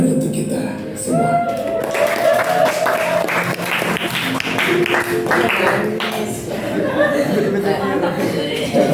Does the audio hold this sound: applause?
yes